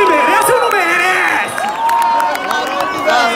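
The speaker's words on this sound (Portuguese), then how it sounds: "Salva de palmas, senhoras e senhores." Crowd at a national rap battle event cheering and clapping for a performer, loud shouts, whistles and whoops layered over applause, with voices calling out amid the noise.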